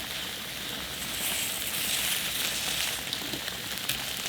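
Scallops sizzle and fry in butter in a pan, a steady crackling hiss that stays close and fairly constant throughout, with no voices.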